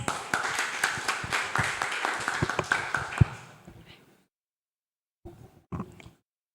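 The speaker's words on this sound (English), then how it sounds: "Let's give a big applause." Audience applause at a Gavel Club meeting: a small crowd claps briskly for about three seconds, fading out, then a few scattered claps and light knocks follow after a pause.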